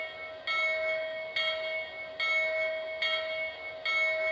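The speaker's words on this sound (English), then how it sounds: "when the bell's ringing" A Lionel Legacy model steam locomotive's bell rings automatically in a steady, rhythmic series of five clanging strikes, each with a lingering metallic ring and no voices.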